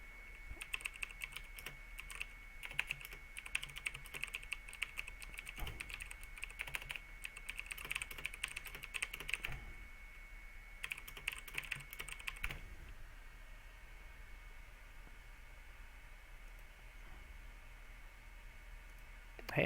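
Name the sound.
typing on a computer keyboard into game chat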